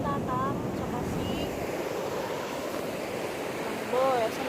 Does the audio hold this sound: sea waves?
yes